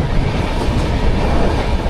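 The Doon Express train rumbles loudly and steadily at Haridwar station, a dense low roar with constant rattling from the cars, close and unbroken.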